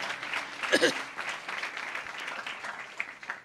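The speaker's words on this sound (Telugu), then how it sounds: "అందరు చప్పట్లు కొట్టి దేవుని కనపరచండి" Church congregation clapping hands together during a Pentecostal Sunday worship service, a steady wash of applause with a brief louder burst near the start, heard under ongoing talk.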